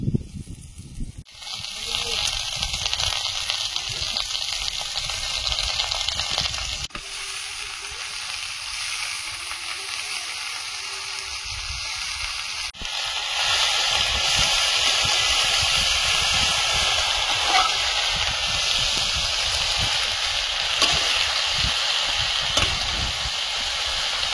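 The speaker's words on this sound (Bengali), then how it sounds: "আলুটা লাল লাল করে ভেজে নিয়েছি, এখন শাকটা দিয়ে দেবো।" Greens and browned potatoes frying in a pan, giving a continuous close sizzle and hiss that grows slightly louder partway through.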